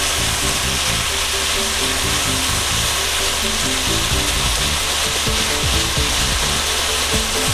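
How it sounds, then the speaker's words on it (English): Onions fry and caramelize in a pan, giving a loud, steady crackling sizzle with scraping and rubbing from stirring throughout, with no voices. "My onions are starting to caramelize."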